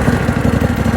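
A tractor engine idles with a loud, rapid, even chugging pulse close by, with no voices over it.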